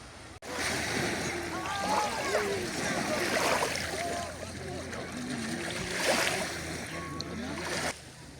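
Sea waves wash steadily onto a city beach in Greece in early autumn, a soft continuous surf under a voice talking throughout.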